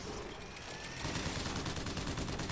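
Weapon fire in the video game Bioshock Infinite, a quiet stretch that turns into a dense, continuous burst of rapid shots from about the halfway point, fairly loud and without talk.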